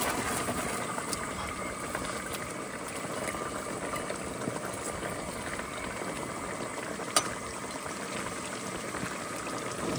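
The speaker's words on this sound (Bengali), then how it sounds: "তরকারির ঝোল ফুটে গেছে, এবার মাছগুলো দিয়ে দেবো" Curry broth boiling steadily in a pot with Gurjali and Bhola fish being added, a continuous bubbling simmer close by with one brief clink, no talk.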